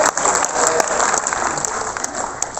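Audience applause at a Hindi comic poetry gathering, a dense steady wash of many hands clapping that fills the whole stretch at fairly close range with no voices over it.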